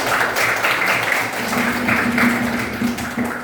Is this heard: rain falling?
no